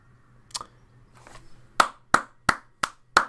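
Hands clap alone at close range: a couple of loose, softer claps followed by five crisp, evenly spaced sharp claps of self-applause.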